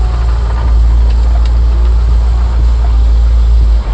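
A 1989 AM General Humvee engine pulling away under light throttle up an incline, a loud, close, steady low rumble that holds throughout.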